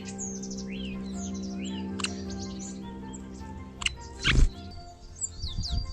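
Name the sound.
field sparrow chirping near its birdhouse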